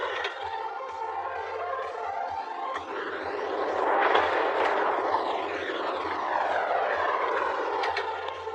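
A Giantex mini portable washing machine runs its rinse cycle with a steady, close motor whir and churning water, holding constant for the whole stretch.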